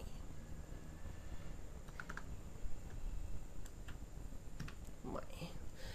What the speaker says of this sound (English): you can type your company name